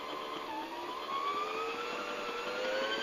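A Brother SE 350 sewing machine winds its bobbin at full speed, a steady high-pitched motor whir that climbs slowly in pitch, continuous and close with no talk.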